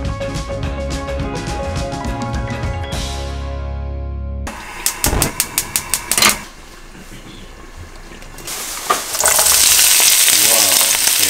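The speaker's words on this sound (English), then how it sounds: "let's get ready to stir fry some tomatoes and eggs" Tomatoes and eggs stir-frying in a hot wok for an omelette dish, a steady loud sizzle broken by a few sharp clanks and scrapes midway before the frying hiss surges up again at the end.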